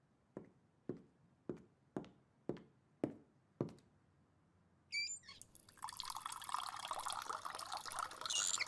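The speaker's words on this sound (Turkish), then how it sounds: "Bir musluk var." Water from a tap in a children's cartoon: seven evenly spaced drips, then the tap opens into a steady, loud rushing stream that fills the rest of the moment, with no talking.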